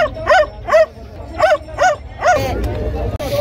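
A greyhound barking at a crowded dog market at a village fair, five sharp close barks at a steady rhythm over busy crowd murmur.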